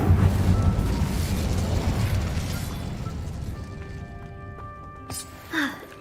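The Incendio fire spell cast in Hogwarts Legacy: a loud, broad whooshing roar of flame bursts out at once and slowly fades, with a short ringing chime and a brief flare near the end.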